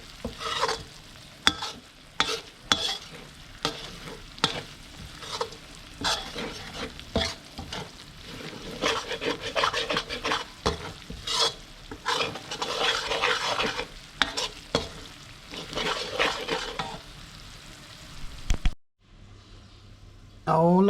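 Garlic sizzles and crackles in hot oil, stirred and scraped repeatedly with a utensil, busy and close, then falls nearly silent near the end.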